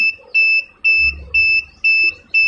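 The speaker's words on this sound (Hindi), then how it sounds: "जहाँ पे बजर आवाज़ दे उधर छोड़ दें" A home UPS buzzer beeps while its low-battery setting knob is turned, giving loud, close electronic tones in an even rhythm of five beeps, each about a quarter second long, with a faint low rumble under the middle beeps.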